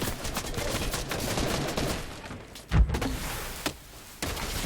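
Gunfire in the Fortnite video game, a sharp loud shot near the three-second mark followed by a lighter crack, set against a steady dense game ambience.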